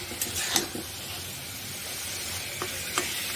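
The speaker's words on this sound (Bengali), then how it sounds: "তো ইলিশ মাছের মাথা লেজগুলোকে এখন আমি ভালোভাবে কষিয়ে নিচ্ছি।" Hilsa fish heads and tails frying in spices in a pan, a steady close sizzle with occasional stirring clinks and scrapes, no talking.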